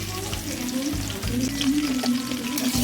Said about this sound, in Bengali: আলুগুলো আমি ভালোভাবে ভেজে নেব।